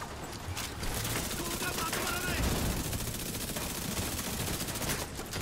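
The Backfire weapon in The Division 2 fires in steady, dense automatic bursts that stay moderately loud and continuous, with game effects mixed underneath.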